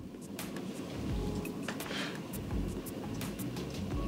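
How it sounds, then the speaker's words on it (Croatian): Rain beginning at a riverside fishing spot in winter, a dense steady hiss of drops with scattered sharper patters on nearby surfaces, fairly faint and continuous. "Evo, prve kapi su već krenule."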